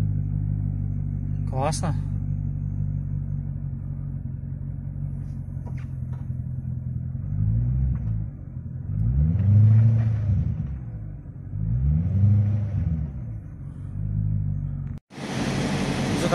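A Chevrolet Corvette idles with a low, steady rumble, then its engine swells in a few slow revs before dropping off, heard close, while someone speaks briefly.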